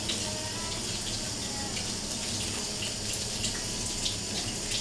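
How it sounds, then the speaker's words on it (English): A kitchen tap runs steadily into a sink as spring onions are rinsed, a continuous close hiss of flowing water with no talking. "Let's go ahead and wash these spring onions."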